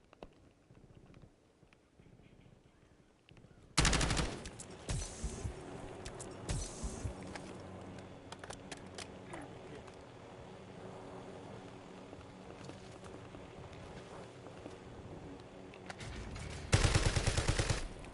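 MP7 submachine gun fire in the Warzone battle royale game, dense rapid bursts starting abruptly a few seconds in and continuing steadily, loud and close, with a sharper burst near the end.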